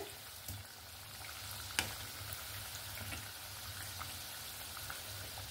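Soft, steady sizzling of kachori dough frying in oil, a continuous crackle with a single sharper tick partway through, fairly quiet and without any talking.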